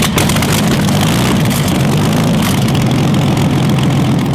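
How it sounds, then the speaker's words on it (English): Vintage 42-litre 12-cylinder Packard Bentley engine running after starting, a loud, steady deep rumble with a dense mechanical roar that continues evenly throughout. "When the 42-liter 12-cylinder Packard Bentley ignites, it's not just a startup, it's a thunderous symphony that shakes the soul."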